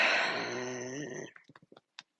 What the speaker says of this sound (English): That is my dog making so much noise.